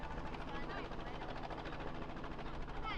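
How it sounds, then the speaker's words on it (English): A helicopter hovers during a rhino ear-notching operation in the bush, its rotor beating in a steady, rapid pulse at a moderate distance, quiet overall, with faint human voices underneath. "Corbin's in the helicopter"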